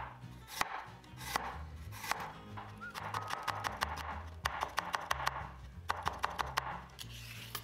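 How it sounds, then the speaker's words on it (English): A knife slices Korean radish into matchsticks on a cutting board, quick sharp chopping taps in uneven bursts, close and fairly soft, with no talking. "And slice the Korean radish into matchstick pieces."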